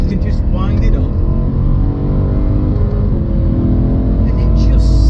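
A BMW M3 engine revs loudly and close, its strong harmonic roar rising and holding under a speaking voice.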